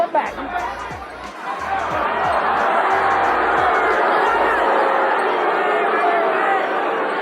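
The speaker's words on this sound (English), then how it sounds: "Crowd getting a little tired of that." A boxing arena crowd grows restless, its steady murmuring chatter filling the hall at a constant loud level with a few low thumps early on.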